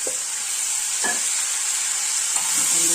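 Rice and vermicelli being stirred in a hot pot, giving a few soft scraping sounds over a steady sizzle.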